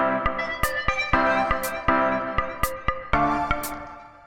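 A Machine instrument instance in an Ableton Live set plays a synthetic pattern with sharp percussive hits over sustained tonal chords in a steady rhythm, clear and up front with no talking.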